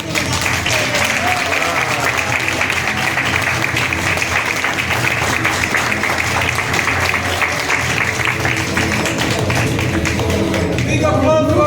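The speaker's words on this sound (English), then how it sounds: "A big round of applause to the Lisbon Bhakti." Sustained audience applause fills a temple hall after an ISKCON Lisbon Ram Navami drama, steady and loud throughout, with crowd voices and a sung melody faintly mixed beneath the clapping.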